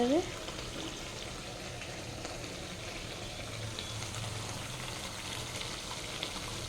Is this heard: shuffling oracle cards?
no